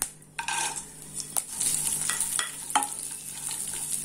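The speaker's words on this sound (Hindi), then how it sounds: "उसको 1 से 2 मिनट के लिए ऐसे भून लेते हैं" Dry fruits and grated dried coconut roasting in ghee in a pan, a soft steady sizzle with scraping stirring strokes and occasional clinks of a spoon against metal, close up with no voices.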